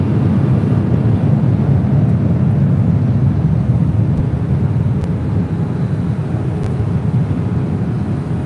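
A Delta jet takes off from runway 24 left at LAX, a steady broadband roar holding loud and constant throughout, heard from nearby with no voices.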